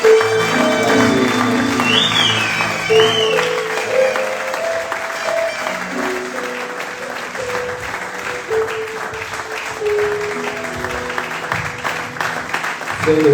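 Church congregation applauds and cheers during a worship service, broad sustained clapping mixed with whoops and a steady band of music-like tones running underneath, loud throughout with small swells and dips.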